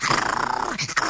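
A cartoon dog growls in a short, close, rough burst with a brief whimpering catch near the end.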